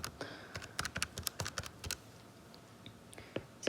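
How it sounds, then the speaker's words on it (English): Quick bursts of key clicks from typing on a computer or calculator, close and crisp, with short pauses between runs of keystrokes and no talking. "I can just type in my computer or my calculator."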